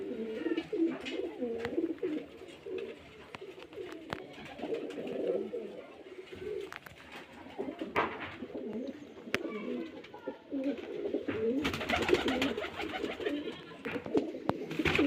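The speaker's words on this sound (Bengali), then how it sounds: "পায়রা খুব ভালো ভালো বাজির পায়রা আছে" Giribaz-line pigeons from Murshidabad, kept for sale, coo repeatedly in a low, rolling chorus that runs steadily throughout, with a brief brighter flutter of noise near the end.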